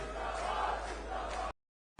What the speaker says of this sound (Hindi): तुम्हारा ताली बजते रहना चाहिए, नारा लगते रहना चाहिए